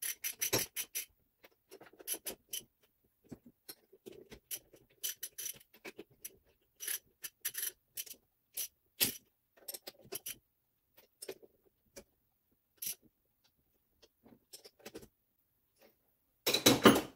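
A nut is threaded onto the bolts joining the two halves of a Ford Model T rear axle, with sparse, close metallic clicks and scrapes separated by silences and a louder rattle of metal at the end.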